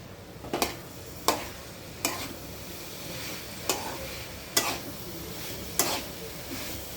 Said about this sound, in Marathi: बटाटा आणि फ्लावर घेतलेला आहे छान मिक्स करून घ्यायचं आहे